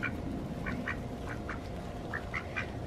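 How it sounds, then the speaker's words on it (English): A duck quacks several times in short separate bursts over a steady background hum, close and moderately loud, while the birds are given a share of a hibiscus harvest. "Duck likes it too."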